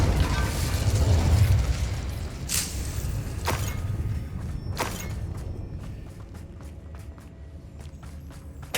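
An Incendio fire spell cast in Hogwarts Legacy, a loud rumbling burst of flame that fades out, followed by scattered sharp crackles and clicks that grow quieter and sparser.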